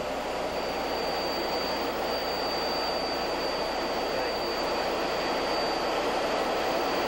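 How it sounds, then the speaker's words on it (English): A General Dynamics F-16 Fighting Falcon single-seat jet fighter roars in a steady, dense broadband rush with a faint high whine, loud and unbroken for the whole stretch, no voices. "this is the General Dynamics F-16 Fighting Falcon"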